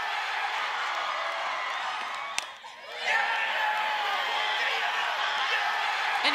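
A crowd at a college softball game between Iowa and Nebraska roars in a broad, sustained cheer that dips briefly near the middle, then surges back loud and continues to the end.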